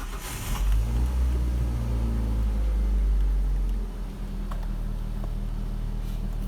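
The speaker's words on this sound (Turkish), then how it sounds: "Bir de cold start yapalım. Hop. Araba dünden beri çalışmıyor." A car engine fires up from a cold start after sitting unused since the previous day, catching with a loud rumbling rev that settles after a few seconds into a steady, slightly lower idle, close by with no talk.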